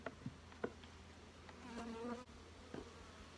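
A soft, steady buzz of bees on brood frames hums in the background, with scattered faint bumps and clicks of handling nearby.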